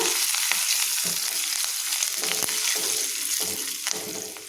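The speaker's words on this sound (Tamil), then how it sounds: "இப்போது கிள்ளி வச்சுருக்க கருவேப்பிலையை சேர்த்திடலாம்." Curry leaves crackle and sizzle in hot oil for a fish curry tempering, a loud continuous frying hiss with sharp pops and spits scattered throughout, no voices.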